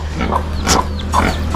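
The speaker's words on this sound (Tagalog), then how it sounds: "ito po yung mga babuyan dito" Pigs in a piggery grunt and oink in short bursts, several calls close together over a steady low farm hum.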